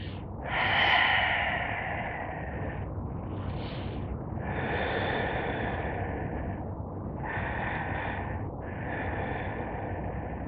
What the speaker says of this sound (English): Continue breathe.